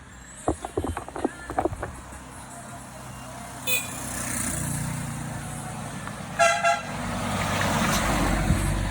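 Car passing on a rural road, a few short honks and clicks early on, then an engine swelling as a vehicle approaches with another burst of honking, fading into a rising rumble, moderately loud.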